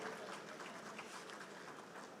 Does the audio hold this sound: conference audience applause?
yes